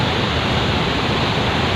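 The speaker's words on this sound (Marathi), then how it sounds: "दिसतंय आहे एकदम महापूर आपण म्हणू एवढं हे पाणी सोडलं आहे" Massive floodwater released from a dam roars in a steady, loud, broadband rush, heard close by from beside the outflow without any voices.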